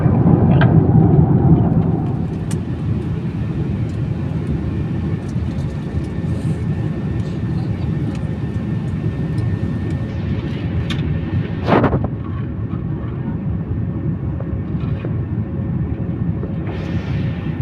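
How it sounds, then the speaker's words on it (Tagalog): An airplane landing at Ninoy Aquino International Airport, heard from inside the cabin as a loud, steady engine and air roar with a brief rumbling thump partway through. "after 3 hours, we are now landing here in Ninoy Aquino International Airport"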